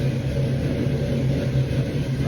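A 1972 Chevrolet C10 truck engine idles high while cold, giving a steady, loud, close rumble with an even pulse and no talking.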